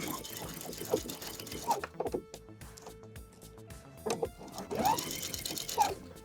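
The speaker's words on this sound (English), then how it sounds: "So I'm going to sew right in that crease." A sewing machine stitches along the crease of a binding on a horsehair braid hem, with bursts of fast, even motor-driven stitching close by and a pause in the middle while a person talks.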